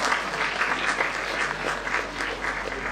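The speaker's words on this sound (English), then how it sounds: "he deserves a round of applause" An audience applauds steadily throughout at an exhibit inauguration, a dense, even patter of many hands clapping at moderate distance with no voices over it.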